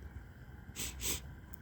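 Someone sniffs a Moon Dust stout beer with two short, close, breathy inhalations through the nose in a quiet room.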